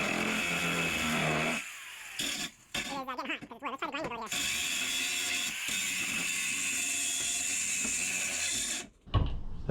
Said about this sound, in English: Totally works as a grinder because of all these hard edges, and I bet the diamond on the wood would last forever